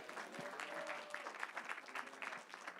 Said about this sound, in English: Let's give a hand clap for excellent production,